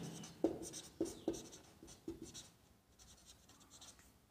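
Marker or chalk writing on a board in a classroom, a few quick scratchy strokes close by, then softer faint scribbling that trails off, with no voice over it.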